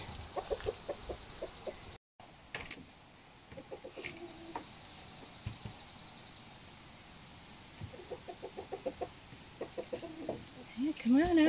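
A couple of hens cluck and coo softly near a rooster, scattered short bursts of calls at moderate distance with people talking quietly between them.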